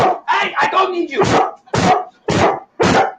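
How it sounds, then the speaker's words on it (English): A small dog barks in several sharp bursts, a quick cluster followed by three evenly spaced loud barks, close to the microphone, with a person's voice mixed in at the start. "The noise was that dog"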